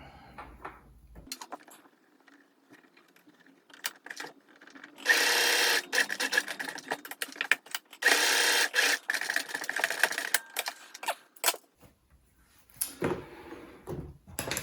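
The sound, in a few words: sewing machine stitching a homemade face mask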